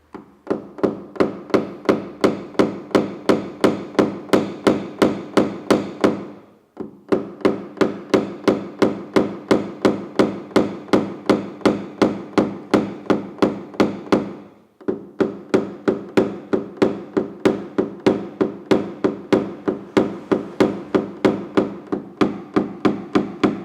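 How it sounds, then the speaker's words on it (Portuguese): A body-shop hammer taps out a dent in a car panel, striking in fast, regular runs of sharp, loud knocks, each run lasting several seconds and broken by short pauses. "Martelo."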